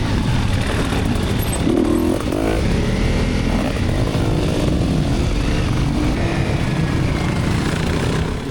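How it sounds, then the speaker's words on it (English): A Honda CRF dual sport motorcycle on an enduro course revs high and hard, its engine note loud and continuous throughout with no talking. "So when you hear me revving the bike really high"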